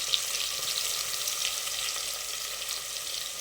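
Steady, dense sizzling of chopped onions frying in hot ghee, a continuous crackling hiss at an even level throughout, with no voices.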